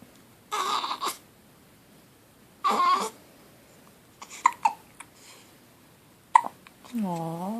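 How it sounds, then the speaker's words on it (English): A baby hiccups in a handful of short, sharp bursts spaced a second or two apart, close and fairly loud. A soft babyish vocal sound rises at the very end. "Aw, hiccups."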